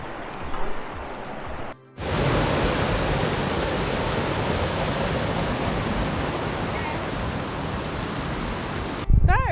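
Twin Falls waterfall on Venford Brook, Dartmoor, roars as a loud, steady broadband rush. A brief dip comes near the start, and there is faint sound at the edges.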